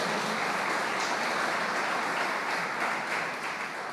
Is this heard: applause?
yes